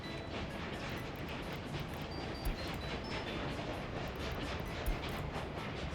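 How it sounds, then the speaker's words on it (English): A train rolls along in the Workers and Resources video game, heard as a steady, loud rumble and rattle with faint clicks that holds evenly for the whole stretch. "Stop the train."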